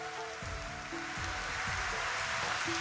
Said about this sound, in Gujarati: આ જો કેવો વરસાદ પડે